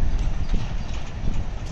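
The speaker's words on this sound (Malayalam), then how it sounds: "എന്റെ ദൈവം ഈ പാലത്തിൽ കൂടി കുതിര പോണോക്കി" Horse hooves clop in a quick, steady rhythm across a suspension bridge on the trekking trail near Namche Bazaar, close and fairly loud with a faint rumble beneath.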